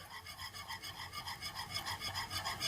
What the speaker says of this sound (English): while I whisk the blueberry syrup together